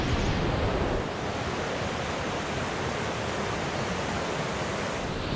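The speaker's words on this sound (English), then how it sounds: "We're still walking along this river. It's more like a massive waterfall." A rushing mountain river in Nepal's Langtang Valley roars like a massive waterfall, a loud, dense, unbroken wash of white noise close by with no voices over it.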